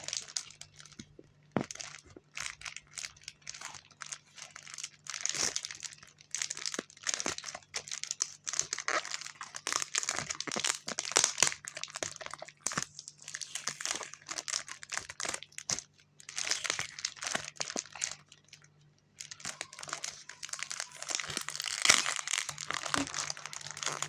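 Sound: opening taped plastic package

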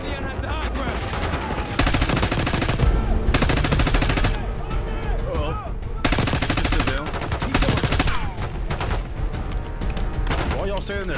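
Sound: gunfire in video game Call of Duty Black Ops 6

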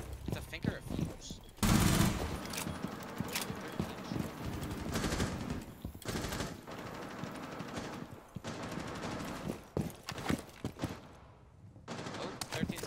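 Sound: light machine gun fire in a video game

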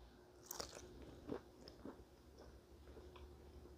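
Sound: biting into brown sugar ribs

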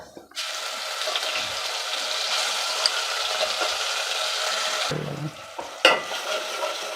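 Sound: ginger garlic paste frying for Andhra-style veg pulav

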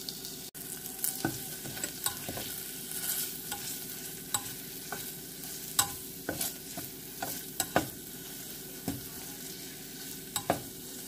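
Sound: stir-frying curry paste in a pan

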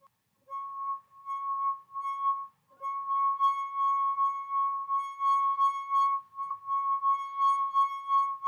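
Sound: wet finger rubbed around rim of glass, singing

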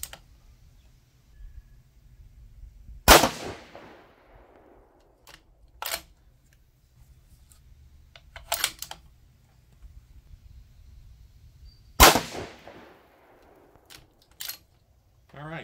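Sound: rifle shots, 6 GT with 108 ELD-M load

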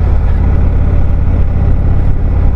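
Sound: motorcycle riding on a twisty road

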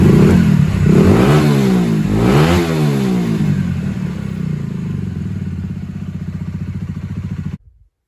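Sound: Honda CBR 125 motorcycle engine running

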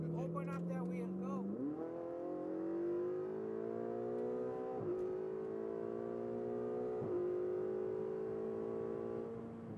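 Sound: Ferrari 488 GTB accelerating on a track

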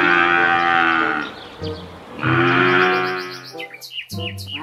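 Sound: water buffalo mooing

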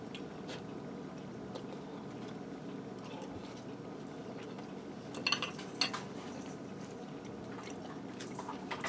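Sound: cutting crispy pierogies with cutlery on plate

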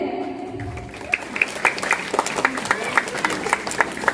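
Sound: audience applause

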